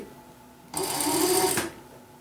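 A sewing machine stitching fabric with contrast thread, a single close burst of rapid mechanical whirring that lasts under a second and then stops, with no talking.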